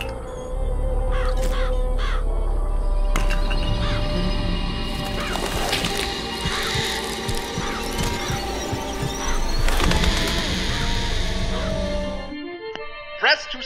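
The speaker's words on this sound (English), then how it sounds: "Press to summon murderous crows." Murderous crows summoned by a vigor in BioShock Infinite, a dense flapping, cawing swarm over a steady low game hum that swells and churns for several seconds before cutting off abruptly near the end.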